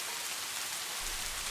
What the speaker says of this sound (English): rain playing softly in the background